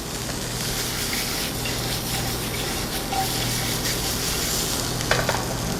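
Par-cooked carrots and parsnips sizzle steadily in fat in a pan, a soft, continuous frying hiss with faint stirring scrapes and a small clink near the end, no talking.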